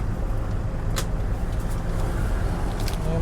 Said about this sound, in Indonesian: Jalanan macet banget ya.